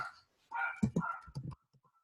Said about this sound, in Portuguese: Que cachorrinho barulhento, hein?